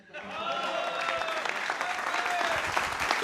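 Audience clapping at a Delhi election political speech, a steady, dense burst of applause from a crowd that swells after a brief onset and continues throughout, with faint voices mixed in.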